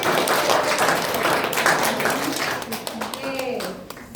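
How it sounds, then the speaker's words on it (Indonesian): Applause from students in a classroom, dense clapping at moderate volume that thins toward the end, with voices chattering over and under it. "Beri tepuk tangannya."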